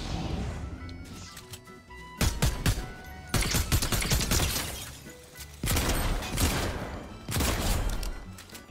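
Shotgun fire in a Fortnite-style battle royale video game, with loud, close bursts of blasts and crashes arriving in several clusters over a few seconds, no talk heard.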